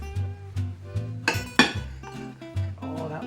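A gluten-free vegetable galette with feta is cut in half with a knife, clinking and scraping against a plate or pan in a few close, sharp strikes amid kitchen clatter.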